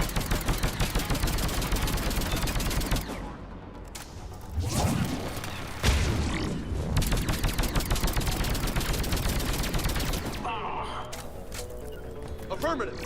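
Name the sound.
rapid-firing gun in Mass Effect 3 video game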